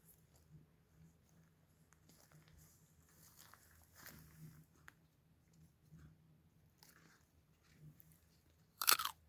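Someone bites into a crunchy wild apple outdoors in cold weather and chews it, with soft crunches and mouth noises repeating quietly up close, followed by a brief louder crackle at the end.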